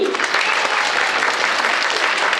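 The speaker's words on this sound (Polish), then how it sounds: "Brawa jeszcze raz dla Hani." An audience at a children's movement-theatre show in a Lubin cultural centre claps loudly and continuously, a dense, close wash of applause filling the whole moment.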